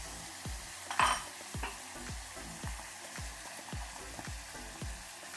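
A spatula scrapes rhythmically across a pan as masala paste is worked into a curry, regular strokes about twice a second over a low sizzle, close and clear, no voices.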